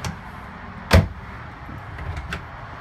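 A caravan cupboard door or drawer is opened with a single sharp knock-like clunk near the start, followed by a few softer light taps and rattles nearby in a quiet interior.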